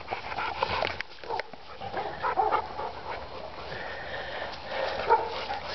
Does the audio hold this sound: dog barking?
yes